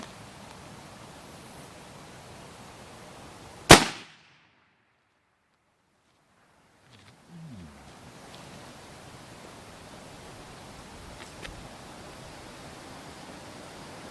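A single sharp, loud crack from a .338 Lapua Magnum rifle fired at a distant target, followed by a sudden cut to near silence before faint outdoor ambience resumes.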